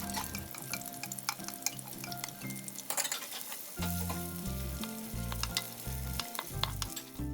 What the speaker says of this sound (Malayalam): വെളിച്ചെണ്ണ ചൂടായി കഴിയുമ്പോൾ ഉള്ളിയും ഇഞ്ചിയും വെളുത്തുള്ളിയും ഒന്ന് നല്ലതുപോലെ മൂപ്പിക്കുക